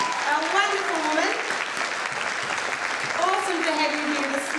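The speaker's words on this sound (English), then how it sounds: "So can we give our mothers a massive round of applause?" A church congregation applauds mothers at a Mother's Day morning service, a continuous even clapping that runs throughout while voices and cheers rise over it at the start and again near the end.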